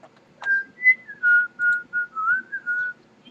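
A person whistles a short, bright tune of about eight sustained, sliding notes with brief gaps between them, close and clear against a quiet background hum.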